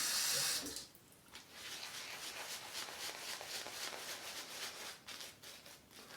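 Water runs from a tap at a sink while shaving soap is lathered, a steady close hiss and splash after a brief louder burst at the start, with faint handling shuffles.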